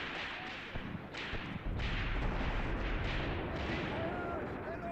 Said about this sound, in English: the heavy weapons are firing at a bit more range